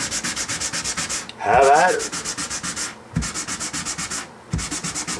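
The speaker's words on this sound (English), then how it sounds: "Go through all the grits, and I will finish with sandpaper." Sandpaper rubs back and forth across the body of a Mexican-made Fender Jazz Bass in fast, steady strokes, close and loud, with a brief spoken remark breaking the rhythm.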